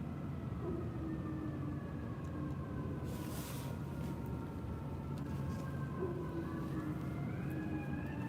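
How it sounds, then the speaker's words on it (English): A siren wails in a New York City street in Manhattan, its rising and falling tones sweeping over a constant rumble of traffic, moderately distant and continuous. "you'll often hear siren like this in New York City. It sounds like a fire alarm"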